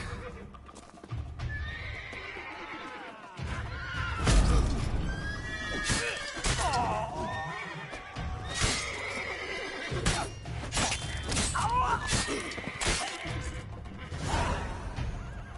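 Several horses whinny and neigh loudly over a busy clatter of hooves, with voices mixed in amid the commotion.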